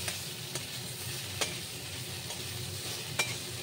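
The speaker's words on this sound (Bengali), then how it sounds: "এখন ভালো করে কষাতে হবে" Vegetables with salt and turmeric being stirred and sautéed in a pan, a steady quiet sizzle broken by a few sharp scrapes and taps of the spatula at irregular intervals.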